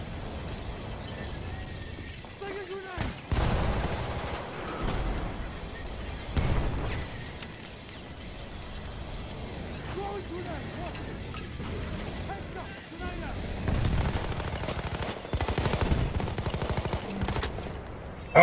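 Game gunfire from a fort battle with a flame trooper, in bursts of sharp shots and rattling volleys mixed with clopping and explosions, with a voice talking over the fighting.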